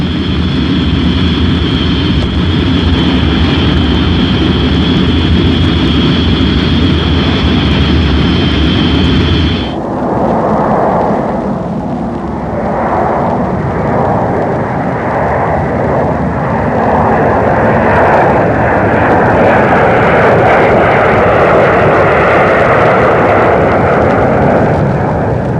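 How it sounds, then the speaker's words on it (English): Bombers of the Rhodesian Air Force taxi out and fly low, their engines a loud, steady roar that shifts in tone midway as the aircraft pass close by. "The bombers taxied out that first morning for what was to be a low-level flight of 700 nautical miles"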